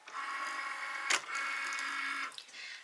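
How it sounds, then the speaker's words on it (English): A Cricut cutting machine loads a mat with a printout and scans it, giving a steady mechanical whir of motor and rollers with a brief louder clunk partway through, close and alone. "Let's hit go and we'll wait for the machine to scan our printout"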